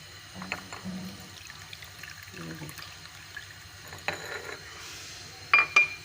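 Hot water is poured into a lemon drink, giving a soft, uneven splashing and trickling, with a few louder sloshes near the end.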